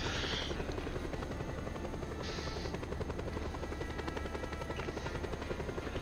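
A helicopter in Just Cause 2 gives a continuous rotor thump and engine whine, steady and close throughout, with a faint buzzing edge and no talking.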